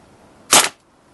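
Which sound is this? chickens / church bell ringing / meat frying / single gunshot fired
single gunshot fired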